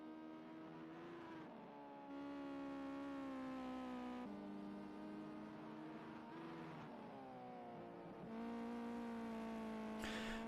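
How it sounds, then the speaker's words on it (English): Race car engines from an esports sim racing video game in a summer championship. Faint, steady engine whines rise and fall in pitch with distinct gear shifts, heard alone without commentary. "Hopefully you can hear the cars a little bit better now."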